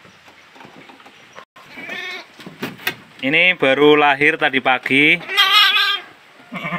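Sheep in a farm pen, Merino lambs with a Batur ram and Texel ewes, bleating several times in quick wavering calls close by, mixed with someone talking.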